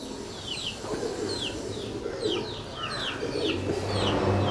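Punjabi Malwai pigeons cooing, repeated soft coos over a steady background of other birds chirping, moderately close and continuous with no talking.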